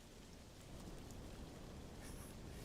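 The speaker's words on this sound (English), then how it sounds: "you can turn on rain" A rain effect from a synthesizer plug-in, a dense, even hiss of falling rain with steady wash-like texture that swells slightly louder partway through, with no voices over it.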